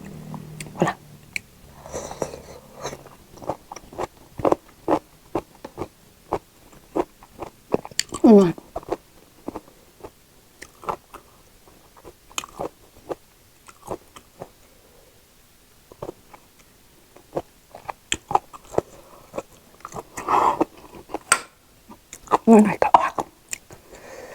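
Close crunchy bites and chewing of a sweet, crisp Thai snack, a crispy shellfish-pancake style treat, come in irregular bursts with brief pauses between mouthfuls, heard alone without talk.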